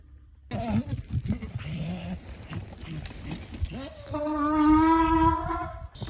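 A farm goat bleats in a long, wavering call near the end, loud and close, after a stretch of excited shouting and talk from people nearby.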